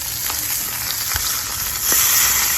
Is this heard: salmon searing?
yes